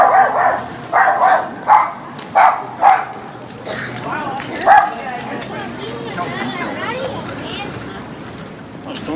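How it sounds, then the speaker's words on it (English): An angry dog barks on a street in Québec City, giving a run of five or six loud, sharp barks about every half second before it settles into quieter background noise. "A good old angry dog."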